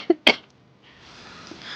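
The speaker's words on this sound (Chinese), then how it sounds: "妈，你这咳嗽怎么越来越厉害了？" An older woman with a long-standing cough coughs twice in quick succession, short close-up bursts, followed by quiet room noise.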